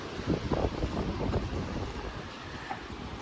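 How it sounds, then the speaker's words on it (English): Gusty wind buffets the microphone with low, rumbling bursts beside a beehive, strongest early and then settling into a steady blustery hiss. "Man, it is windy today."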